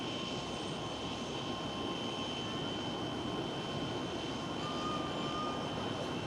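A British-registered EasyJet jet airliner at Schiphol Airport in Amsterdam roars steadily with broadband engine noise and a faint high whine, loud and continuous with no voices.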